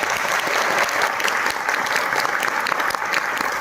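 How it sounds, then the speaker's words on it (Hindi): Audience at a health and wealth training event applauding loudly and steadily throughout, a dense wash of many hands clapping with no break. "तो चलिए जोरदार तालियां इनके लिए एक बार बजाएं"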